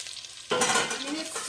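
Shrimp hit a hot pan and burst into a bright, close sizzle, a sudden crackling hiss that holds steady after a quiet moment.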